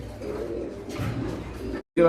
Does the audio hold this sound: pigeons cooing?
yes